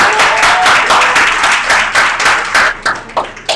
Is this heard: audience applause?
yes